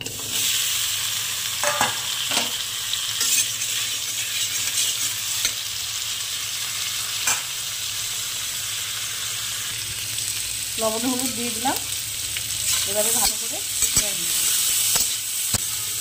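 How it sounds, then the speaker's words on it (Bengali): Squash and drumstick pieces fry in oil in a wok with a steady sizzling hiss and occasional stirring scrapes, while someone talks briefly over the cooking. "আর সবজিগুলোকে হালকা ভেজে নেব"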